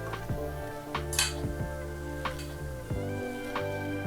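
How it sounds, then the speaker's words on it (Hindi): Capsicum, beans, carrots and peas go into tomato puree cooking in oil in a pan, with several sharp spoon-on-pan clinks and scrapes over a soft, close sizzle. "अब हम इसमें अपनी बाकी की सब्जियां डाल देंगे।"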